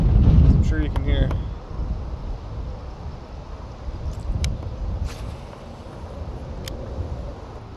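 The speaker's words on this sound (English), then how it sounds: "is super windy though, as I'm sure you can hear." Strong wind buffets the microphone in a continuous low roar, with a few brief clicks and bumps, and a voice briefly at the start.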